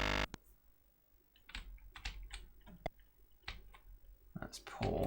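Someone types on an Amiga computer keyboard in short, irregular bursts of crisp clicks and clacks, some keys louder than others, with faint soft speech underneath.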